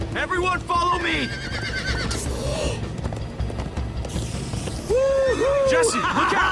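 Horses neigh and whinny in the Minecraft Story Mode video game, with clip-clop hooves underneath, while game characters talk loudly over the action throughout.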